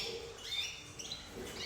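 A canary, Gloster or Fife type, gives faint high chirps and twittering calls over a soft room hum, short and scattered rather than a full song.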